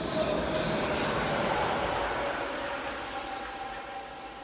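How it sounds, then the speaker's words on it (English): Train of locomotives rumbling along a railway, a loud broadband roar of wheels on track heard close at first and easing slightly as it continues, steady throughout with no voices. "Locomotives."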